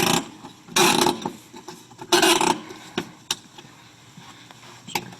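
Speaker mounting mechanism being tightened down into a patented trim ring of an architectural speaker, giving two bursts of loud scraping, ratcheting mechanical noise followed by sparse clicks and taps, close up with no talking.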